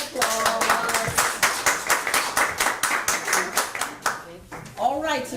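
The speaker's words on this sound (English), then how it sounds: "Let's give them a round of applause." Audience at a sales training session claps in a round of applause, dense rhythmic hand claps filling the room for several seconds before tapering off, with a voice speaking briefly near the end.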